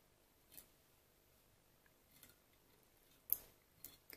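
Scissors trimming thread while tying a tube fly for sea trout, a few faint, quick snips spaced irregularly in a quiet room.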